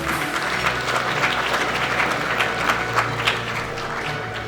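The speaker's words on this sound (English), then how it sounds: "Would you please give them all a round of applause?" An awards-event audience applauds with dense, steady clapping that carries on evenly from start to finish without letting up.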